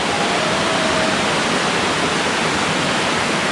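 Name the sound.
Jumog waterfall and river stream flowing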